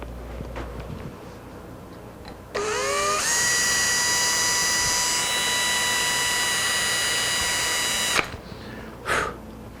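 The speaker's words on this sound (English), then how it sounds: "The ebony is a bit snug, so I'm going to come back with a slightly larger drill." A power drill bores into ebony with a slightly larger bit during work on an ES 335 guitar build, spinning up with a rising whine, holding a steady high-pitched drone for about five seconds, then stopping abruptly.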